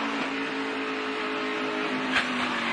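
NASCAR Xfinity race car on track, heard as a steady broadband engine roar with a faint brief burst near the end, distant and even throughout.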